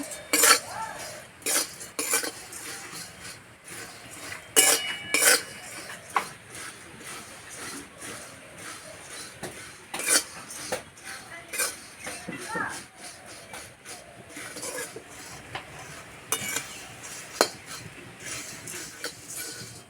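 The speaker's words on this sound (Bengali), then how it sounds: "এই গরম কড়াইয়ে কিছুক্ষণ এইভাবে নেড়ে নেব" A spatula stirs soft puffed rice (khoi) dry-roasting in a hot wok, making repeated close scraping clinks and rustling shuffles in an uneven rhythm, with a person talking intermittently.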